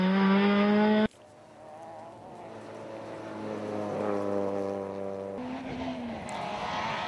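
A Renault Clio rally car at the Rallye Lanzarote roars past at speed on a road crossing lined with spectators. A loud close engine note cuts off abruptly, then a fainter engine climbs through the gears as it draws away.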